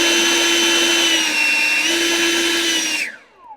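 A Seesii 40V cordless leaf blower runs on turbo with a loud, steady high-pitched motor whine and rushing air close by, then spins down near the end.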